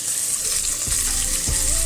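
Onion and capsicum sauté in a hot pan with a bright, steady sizzle, broken by a couple of soft knocks from stirring. The sound is close and continuous, with no voices.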